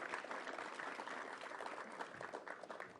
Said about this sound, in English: Please give her an incredible round of applause.